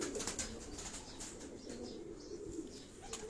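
A pigeon on a Karachi rooftop gives soft, low cooing with faint wing movement over a steady wash of wind, fairly quiet and without talk.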